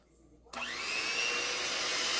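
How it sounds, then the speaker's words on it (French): A blender whirs steadily as homemade skin cream ingredients are mixed, starting abruptly after a quiet moment and running loud and continuous on its lowest speed setting. "Et je vais mixer le tout."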